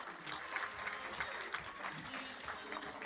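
A crowd at a health integration summit gives a round of applause, a faint, steady patter of many hands clapping at a distance.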